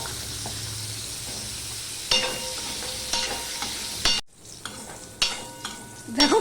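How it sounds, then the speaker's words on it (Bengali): Carrots fry in a pan with a continuous close sizzle, and several sharp stirring scrapes stand out over it, with a brief break near the end. "এবার আমি গাজরটা দিয়ে দেব গাজরটাও আমি ভেজে নেবো"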